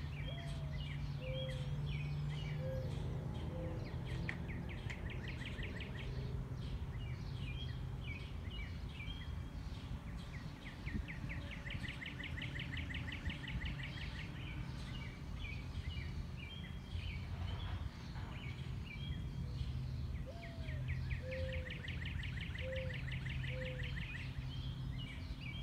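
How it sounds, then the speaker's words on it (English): Birdsong in a peaceful natural setting: several birds repeat chirping and trilling phrases at a moderate distance over a low, steady outdoor hum, with no voices. "Hear lots of birds chirping, making noises."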